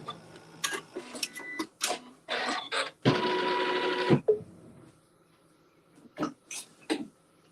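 A sewing machine stitches a seam joining a quilt block right sides together, giving a loud continuous run of about a second amid short bursts of handling and fabric noise.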